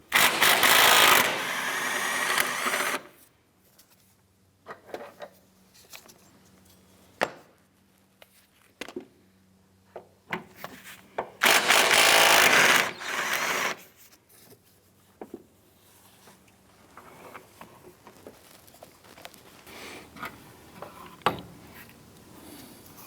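A ratchet works on the 17mm motor mount bolts of a 2004–2008 Acura TL during a timing belt job. Two long bursts of rapid clicking stand out, with scattered metallic taps and clunks between them in a quiet garage.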